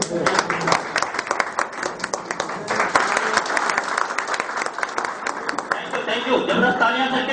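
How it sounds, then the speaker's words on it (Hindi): Enthusiastic applause for a man at a gathering held by a property projects company, continuous clapping from a crowd with voices and light chatter mixed in throughout. "जबरदस्त तालियां सर के लिए, जबरदस्त तालियां"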